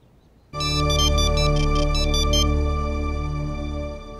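A mobile phone ringtone starts abruptly and plays loud and close, a bright electronic melody with a steady sustained tone underneath, lasting several seconds without any talk.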